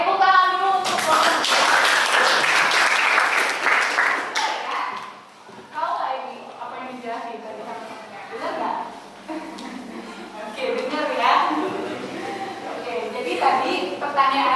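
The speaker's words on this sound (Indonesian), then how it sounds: "Oke, tepuk tangan dulu untuk" A class claps hands together in a burst of loud applause lasting about four seconds, then a teacher speaks while scattered taps and light thumps continue.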